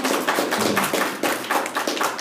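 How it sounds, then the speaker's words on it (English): A short burst of clapping, several hands applauding rapidly and close by, without voices, at a city council candidate forum. "please hold your applause so we can get through all of them"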